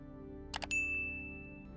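A bright notification bell chime sounds alone after two quick soft taps, then rings out and fades over about a second.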